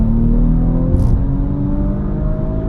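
An Audi RS5 Sportback engine pulls hard at full throttle, a loud, dense rumble with its pitch climbing steadily as the car accelerates, heard from inside the car with no talking.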